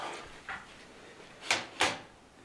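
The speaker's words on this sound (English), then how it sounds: "So we're gonna rip off this front door like I did yesterday." A PC case's front door panel is pulled off with two sharp plastic clicks and scrapes, preceded by softer handling knocks, close and quiet with no talk.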